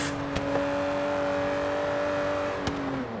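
A Vantage GT12 sports car engine in the video game Forza Horizon 3 hums steadily cruising in 6th gear at 140 mph, a constant droning tone with faint road noise and a couple of brief clicks.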